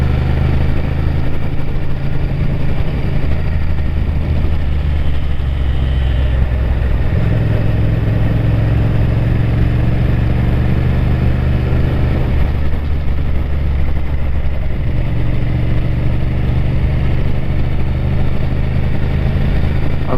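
A motorcycle engine drones steadily and loudly up close while being ridden through corners, its pitch shifting slightly as the throttle eases and picks up, with constant wind rush and no voices.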